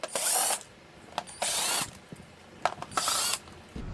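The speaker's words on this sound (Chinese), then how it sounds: "打开后盖上的几个螺丝。" An electric fan's back cover screws are backed out with a powered screwdriver in three short whirring bursts, each about half a second, separated by brief pauses and close by with no talking.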